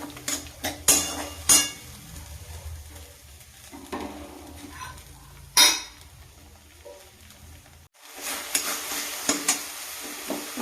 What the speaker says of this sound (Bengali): এবার ভালো করে এটাকে কষবো, আর একটু নুন দেবো